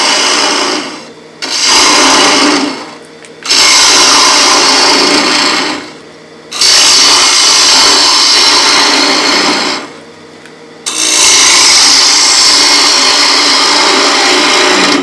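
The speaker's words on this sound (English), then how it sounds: "So we're taking the bulk out with the swept back grind." A bowl gouge with a swept back grind cuts a sycamore bowl on a lathe, loud continuous rough shearing in four long passes separated by short quiet pauses.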